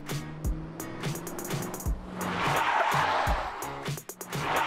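A taxi car drives up close and brakes on a street, a rising engine and tire rush swelling into a loud skidding hiss before settling, with brief thumps around it and no talk.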